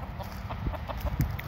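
A chicken from a game fowl bloodline clucks in short repeated bursts close by, with outdoor background noise.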